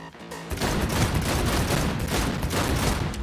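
Sustained game gunfire from Cyberpunk 2077, a dense, loud stream of rapid shots and booms filling the whole clip after a brief quiet start.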